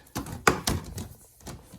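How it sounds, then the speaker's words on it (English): A few quick knocks and clacks sound close by as a small spring-loaded central vacuum inlet door snaps shut after the hose is unplugged, followed by faint rattling. "the door closes."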